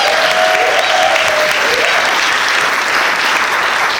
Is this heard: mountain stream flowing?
no